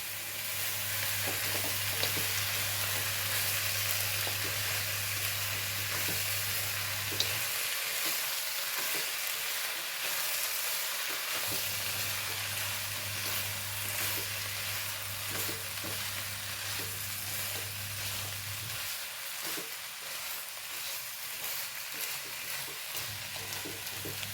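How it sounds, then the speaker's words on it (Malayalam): Chicken fries in a pan with a continuous sizzle as it is stirred, with intermittent scraping and a low steady hum that drops out twice. "ഒന്ന് ഇളക്കി കൊടുക്കാം കേട്ടോ"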